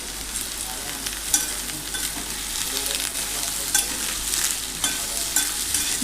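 Bottle gourd frying and sizzling in hot oil with mustard seeds, asafoetida and crushed garlic, a steady close hiss broken by occasional stirring scrapes, no talk.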